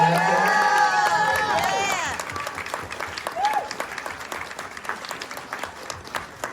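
Crowd at a film Q&A applauds a producer, cheers and whoops rising over clapping at first, then the clapping carries on alone and gradually thins out.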